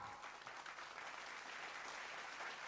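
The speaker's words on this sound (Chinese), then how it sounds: "掌声一下啦！" Audience applause at a company event in Hong Kong, a faint steady wash of clapping from a crowd, distant and even, with no distinct voices.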